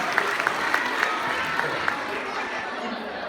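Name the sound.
audience applause at caricature show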